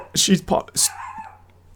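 A dog outside an open window lets out a few quick, loud yips and barks in a short burst, then falls quiet.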